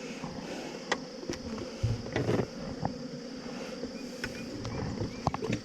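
Honey bees buzz around an open hive during a Texas hive split, a steady insect hum with scattered individual buzzes passing close to the microphone, plus light wind and handling noise.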